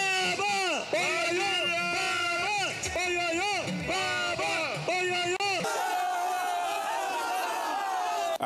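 A mammoth crowd at Ramat Square in Maiduguri roars with sustained cheering and chanting, loud rhythmic shouts rising and falling, then settling into a broad wash of crowd noise.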